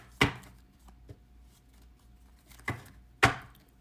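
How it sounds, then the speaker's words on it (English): A deck of tarot cards being shuffled, heard as a few sharp, brief riffling snaps separated by quiet pauses, close and fairly soft. "We're going to shuffle these cards 5 times"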